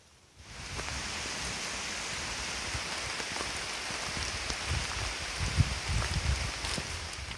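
Rain falls steadily through a wilderness forest on a hiking loop, a dense even hiss of drops on leaves and ground that swells in after a quiet start and holds throughout.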